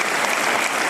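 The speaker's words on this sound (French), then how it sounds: "mesdames et messieurs, on applaudit Polo." Dense, steady applause from a French television audience greeting Polo, a continuous wash of many hands clapping at once, loud and close, with no voices over it.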